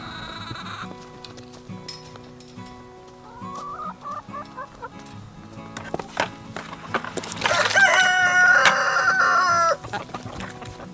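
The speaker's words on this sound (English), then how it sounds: "Hey, chickies." Backyard chickens cluck and a rooster crows on a snowy day, the calls close and loud, growing into a dense burst of crowing and squawking toward the end.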